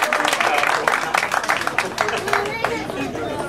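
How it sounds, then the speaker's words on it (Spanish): An audience at a school pastorela gathering in San Antonio de la Laguna, Durango, claps warmly, a dense patter of many hands with crowd murmur and a voice or two mixed in, fairly close and lively. "Le brindamos un fuerte aplauso."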